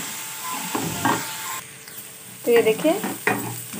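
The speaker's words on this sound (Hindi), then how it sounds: "इसको इस तरह चलाते हुए भून लेना है लाइट पिंक होने तक" Onion, garlic and ginger paste frying in a pot for hotel-style sambhar, stirred with a spoon in short scraping strokes over a soft sizzle, close up, with a brief spoken remark.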